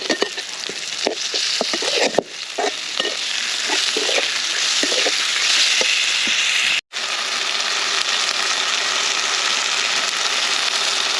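Ginger-garlic paste and thickly cut onions fry in a pan for a village-style pangas fish dish, making a continuous loud sizzle with occasional stirring scrapes and one brief break.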